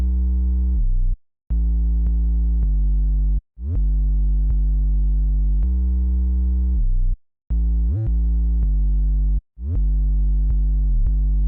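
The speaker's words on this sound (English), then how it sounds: "I went for a very simple pattern with a long and distorted 808." A long, distorted 808 bass holds sustained notes in a trap beat, each droning for about a second or more with brief gaps and small pitch slides between them, loud and alone.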